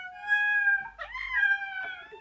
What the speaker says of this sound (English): This is my cat Mia, and this is me.